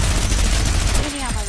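Dense, rapid bursts of gunfire from a Fortnite Battle Royale squads match, loud and continuous for about a second before thinning out, with possible voice chat mixed in.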